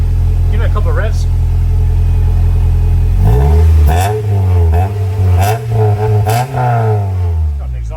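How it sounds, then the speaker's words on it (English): Honda CRX engine idles with a deep rumble, then is revved up and down several times in rising and falling sweeps, loud and close, with an aftermarket exhaust. "Give it a couple of revs."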